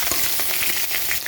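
Eggplant fries in hot oil in a pan with bay leaf and dried chilli, giving a close, loud, steady sizzle with crackling pops throughout and no voices.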